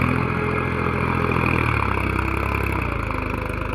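Tractor engine running with a steady, loud, rattling chug close by, its low rhythmic pulsing deepening slightly toward the end, with no voices.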